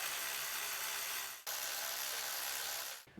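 Bolts run down on the valve cover of a 2005-2008 Honda Pilot, likely with a ratchet: a steady, close, continuous whirring rasp that breaks off briefly near the middle, then resumes before stopping abruptly near the end.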